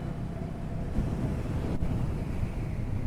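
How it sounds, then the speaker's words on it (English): Strong gusting wind buffeting the microphone outdoors on a road in West Nepal, a loud, continuous low roar that swells and eases without a break. "Oh, the wind is really crazy over here"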